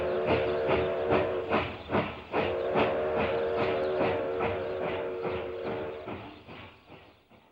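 A steam locomotive chugs with rhythmic bursts of hissing steam over a rumbling undertone, a steady loud puffing beat that slowly fades toward the end.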